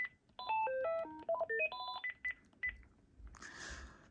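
A Panasonic KX-TG9344 DECT cordless phone plays a quick sequence of short electronic beeps and tones, rising and falling, followed by a softer burst of sound, quiet overall with no one speaking.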